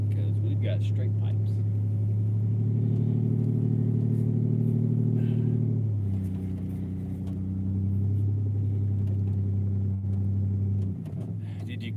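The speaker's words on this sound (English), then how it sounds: "we've got straight pipes" Loud, steady engine drone from a car with straight pipe exhaust, a 1984 Toyota on a neighborhood street, holding a low rumbling tone that steps up in pitch midway as it accelerates and shifts, continuous throughout.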